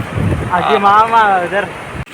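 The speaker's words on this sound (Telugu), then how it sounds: "చల్ల గాలి తగులుతుంది" Cold wind gusts rumble against the microphone near the Lodda waterfall while a person talks over it, the voice rising and falling above the blustery noise.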